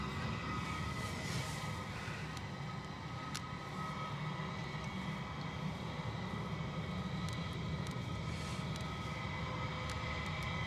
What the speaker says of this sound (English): an A320 that is 22 years of vintage